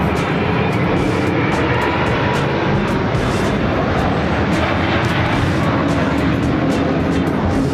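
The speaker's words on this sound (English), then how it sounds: "We can hear the plane still." An airplane passing overhead gives a loud, continuous roar that stays steady and dense throughout, with no voices over it.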